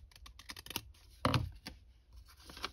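Scissors snip and crunch through material for small handmade bags in a series of short, close cuts, with one longer scrape in the middle and no talking.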